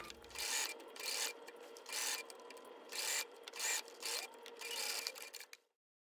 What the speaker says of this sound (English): Next, I will sew along the bias binding about 1/8 inch from the inside edge.